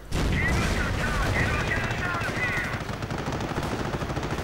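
Henschel aircraft strafing run in a strategy video game, a dense, loud burst of rapid machine-gun fire and explosions rolling continuously for several seconds.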